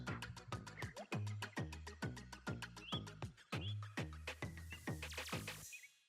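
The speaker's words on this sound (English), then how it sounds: "You're gonna hear nothing but birds." Birds singing outdoors at a residential community, a lively series of rapid, repeated chirping calls in steady bursts, fairly close and clear with no talking.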